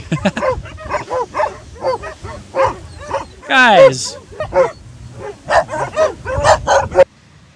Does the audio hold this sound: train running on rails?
no